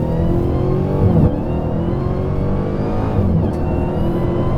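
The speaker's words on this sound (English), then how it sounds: "Press brake and quickly apply full throttle. Oh, there it goes. Oh, we're just doing a burnout." A Dodge Challenger Hellcat Redeye Widebody does a burnout, its engine holding a loud, steady roar at high revs with slight surges around the one- and three-second marks, close and continuous with no talking.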